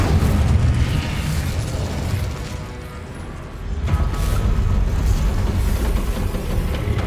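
An Incendio fire spell is cast in Hogwarts Legacy, giving a loud, roaring burst of flame with a booming low rumble that eases for a moment, then swells back into a sustained fiery blast.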